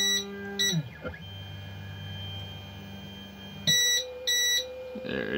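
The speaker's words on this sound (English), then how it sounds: "We're gonna get our two beeps." A Creality LD-002R resin 3D printer during resin vat cleaning gives two pairs of short high electronic beeps, one pair near the start and another after a stretch of low motor hum.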